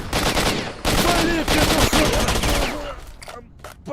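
AK rifle firing in the video game STALKER: Shadow of Chernobyl, a loud continuous burst of rapid automatic shots lasting a few seconds before tapering off into scattered sounds.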